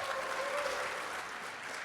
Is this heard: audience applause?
yes